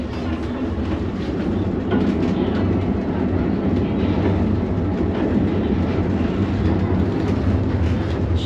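A retro train rumbles steadily along the rails from inside an old carriage on the Osielec–Chabówka line, a continuous loud clatter and hum without pause.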